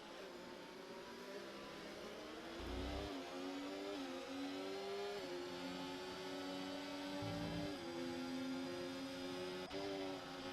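An F1 24 car at the Texas circuit howls past in the video game, a steady high-pitched engine whine with its pitch stepping up through gear changes over about ten seconds, with no voices.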